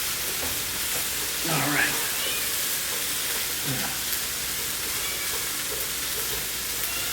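Eggplant fries in oil in a pan with a steady sizzling hiss throughout, with a couple of brief stirring scrapes and a short spoken remark.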